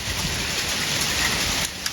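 Hailstones falling in a heavy downpour, pelting onto the ground and a balcony in a dense, steady hiss of close impacts that fills the two seconds, with no voices.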